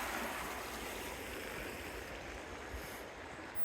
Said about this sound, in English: we've got a good flow of water going across Oak Creek